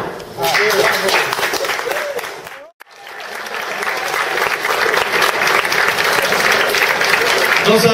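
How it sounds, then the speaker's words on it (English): Applause from an audience at a group body-workout event, dense and sustained with crowd voices mixed in; it drops out briefly near the middle, then swells back to a steady roar of clapping. "Don't stop clapping."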